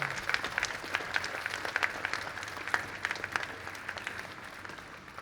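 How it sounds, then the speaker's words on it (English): Audience applause at a technical conference talk on memory in the Julia programming language: a steady, fairly dense patter of many hands clapping, moderately distant, continuing evenly for several seconds with no speech. "Let's have a quick round of applause."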